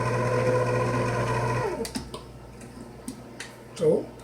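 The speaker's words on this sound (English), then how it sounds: "let's turn our mixer on" An electric mixer whirs steadily at close range while mixing cake batter with salt and baking powder, then winds down and stops, followed by a few light clicks and taps.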